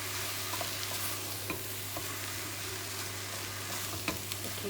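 Sliced peppers sizzle steadily in a hot pan while being stirred, with soft scraping and occasional clicks of the utensil against the pan over a constant frying hiss and a low hum.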